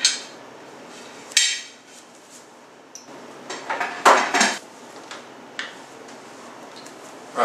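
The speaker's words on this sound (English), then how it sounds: "We're going to go ahead and lock our lid on." Metal clanks and clicks ring out as the lid is locked onto a pressure canner loaded with six jars of bacon, with sharp scraping knocks and a few quieter taps spread across the moment, close and without talk.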